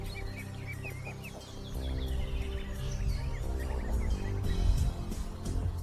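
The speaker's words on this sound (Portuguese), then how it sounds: "As aves marinhas são pássaros sociais." Seabirds calling on rocky ledges of the Hebrides, a busy colony chorus of overlapping squawks and cackling calls over a low rumbling background, fairly near and steady throughout.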